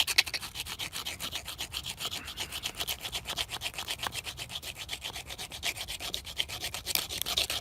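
Rough, rhythmic scraping as bone is ground back and forth against the coarser side of a rough rock to shape a bone tool, steady repeated strokes close up with no talking.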